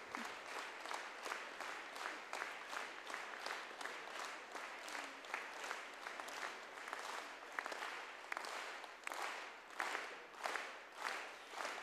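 A concert audience gives a standing ovation at a wind band's New Year concert, with dense, sustained applause that swells and pulses steadily throughout.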